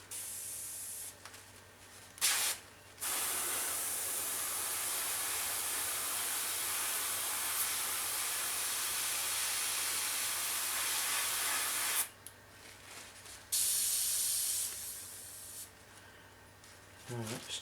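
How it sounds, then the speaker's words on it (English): An airbrush sprays paint onto a 1/32 Eduard Messerschmitt Bf 109E-3 model aircraft in a long, steady, close hiss, broken by short gaps and uneven bursts near the start and end. "It's not spraying evenly that I wanted it."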